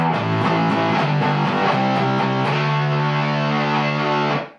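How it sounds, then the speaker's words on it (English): Electric guitar through a Boss DS-1 distortion pedal with the Penguin mod, tone and distortion knobs maxed and the orange knob full up: loud, saturated, bright chords ringing for about four seconds before cutting off abruptly. "We've got the tone full bright, distortion full bright, level still about 230, the little orange knob maxed, and we get this"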